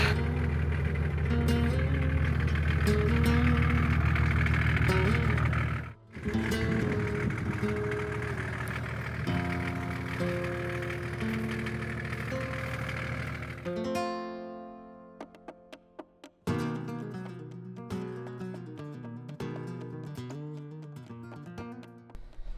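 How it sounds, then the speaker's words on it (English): Toyota Hilux and Land Cruiser four-wheel driving down a rough mountain track, engine hum rising and falling with shifts in load, a brief dropout, then uneven labouring revs. "We pulled out onto the open moor atop the mountain, with Danny's Hilux taking point and my cruiser bringing up the rear."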